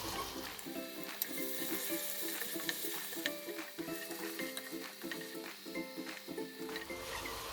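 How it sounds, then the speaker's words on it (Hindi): Onions frying in a pan for chicken keema with peas, a steady crackling sizzle with small pops and stirring scrapes, close and continuous with no talk. "प्याज को गोल्डन ब्राउन होने तक इसको भूनेंगे।"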